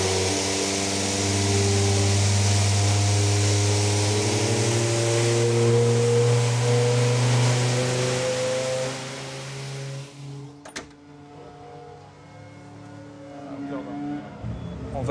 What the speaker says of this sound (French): maintenant on lance le moteur.